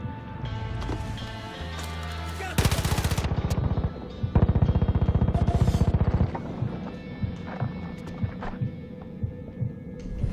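Rapid automatic gunfire from the video game Far Cry 5, loud, in two sustained bursts of fast, even shots, with ambient game rumble and scattered thuds between them.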